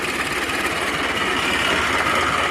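A tractor engine, an Ursus C-360 in fifth gear with the reduction gear in neutral so it stays in place, drones steadily close by, a continuous buzzing hum with a mechanical vibration and no change in pace.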